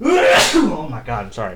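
A single loud, close sneeze bursts out at the start, and a person then talks briefly.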